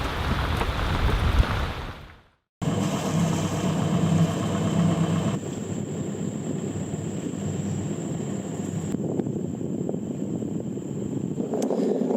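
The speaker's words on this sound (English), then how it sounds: "there's lots of rain, isn't there?" Steady rain patters and hisses across the whole stretch on a sailing boat, with a brief dropout near the start and a low engine-like rumble underneath.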